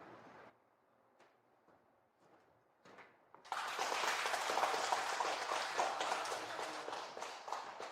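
Audience applause at an award ceremony bursts in loudly after a few quiet seconds of scattered sounds, then continues as a dense, sustained wash of clapping until the end.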